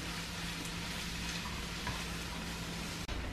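Sausage, calabresa and onion frying in a pan while being stirred, a dense, even sizzle close up with faint scrapes of a utensil and one brief knock near the end, with no talk.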